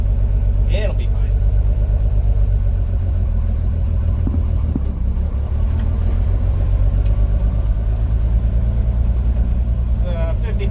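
Loud, steady mid-range engine drone of a 1952 International L112 pickup with an unsynchronized 4-speed T9 transmission, running continuously from inside the cab with some rattles and a voice talking over it.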